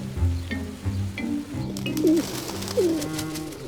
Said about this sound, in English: The feral pigeon, it must be said, is less naturally gifted.